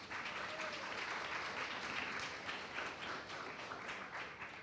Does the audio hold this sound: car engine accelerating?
no